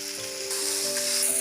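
Dal tarka base frying in hot oil in a pan with garam masala, giving a steady close sizzle that swells louder halfway through, with no voices.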